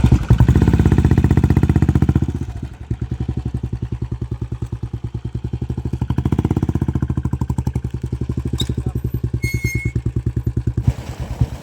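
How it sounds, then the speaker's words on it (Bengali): A motorcycle engine runs up close in rural Jharkhand near Dhorni Pahar, with a steady throbbing idle that revs briefly, settles and keeps putting along for the whole stretch before cutting out at the end. "আমি এখন মোটরসাইকেল স্টার্ট করে এখন"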